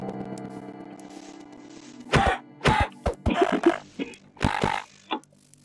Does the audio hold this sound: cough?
yes